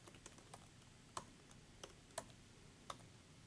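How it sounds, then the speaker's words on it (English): Sparse key presses on a computer keyboard while entering an iLok ID during Slate RAVEN setup on an Apple M1 Mac, a handful of soft, irregular clicks over a faint background hiss. "we'll type in our iLok ID that we just set up"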